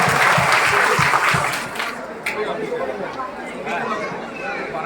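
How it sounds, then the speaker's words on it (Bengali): Students at a high school annual quiz program burst into loud group applause that thins after a couple of seconds into lighter clapping and crowd chatter. "এই তিনটে দেশ, ওদের জন্য জোরে হাততালি দাও।"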